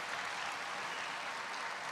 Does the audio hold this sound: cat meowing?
no